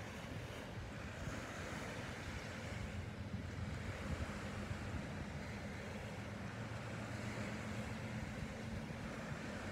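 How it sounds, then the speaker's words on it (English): Waves lap steadily on a Puget Sound shore at Carkeek Park, a continuous soft wash of surf blended with wind noise, with no distinct individual breakers standing out. "And the lapping of the waves."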